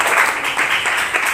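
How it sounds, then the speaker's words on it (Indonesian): A classroom claps for group 1 during a teaching practice lesson, a brief dense burst of hand claps that fills the room evenly at close range, with no speech over it. "tepuk tangan untuk kelompok 1 dulu"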